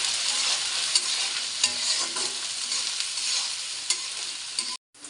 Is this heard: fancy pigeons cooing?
no